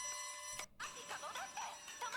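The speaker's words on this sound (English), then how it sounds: "Painful silence to loud as fuck chimes and alarms," Loud ringing chimes and alarm tones from the anime Flip Flappers, which break in after a hush and then sound in rapid, shrill bursts.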